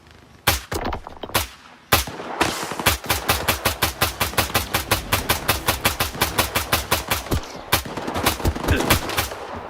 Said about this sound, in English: I actually can't see where I'm shooting